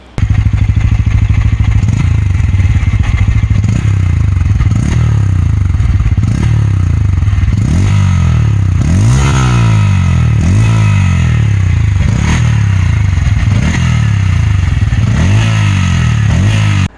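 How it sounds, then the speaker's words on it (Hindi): A Bajaj Pulsar N160 motorcycle engine revs hard over and over in wet conditions, its exhaust note rising and falling in repeated sweeps, loud and close with some mechanical clatter. "इसका एक एग्जॉस्ट नोट का वीडियो मैं आपको इसमें साथ में डाल ही दूँगा"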